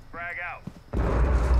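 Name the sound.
frag grenade explosion in a video game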